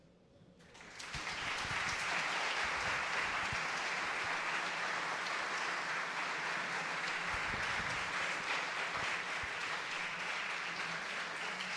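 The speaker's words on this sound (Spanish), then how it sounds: "Que aplausos no, pero lo prolongaron estos muchachos" Sustained audience applause at a university institutional development plan forum fills the room, starting suddenly after a quiet moment and holding steady and loud for over ten seconds, with no talking over it.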